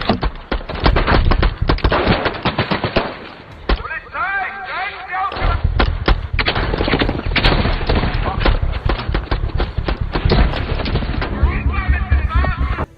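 Gunfire in a police shootout film scene: rapid bursts and single loud shots crack in dense clusters, with a brief lull midway before the barrage resumes, over a dramatic soundtrack.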